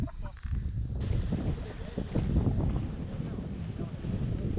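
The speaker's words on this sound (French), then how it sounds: "Ça souffle." Strong, gusty wind buffeting the microphone at a paragliding takeoff, a loud roaring rumble that surges throughout, with a person speaking briefly underneath.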